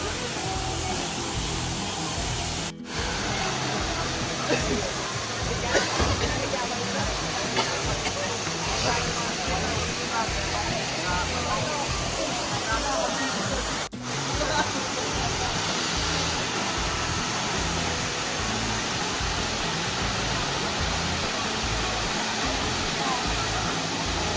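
Busay Falls at Panangcalan roars as a steady, loud rush of falling water, a constant broadband hiss that carries unbroken for over twenty seconds, with faint voices now and then beneath it.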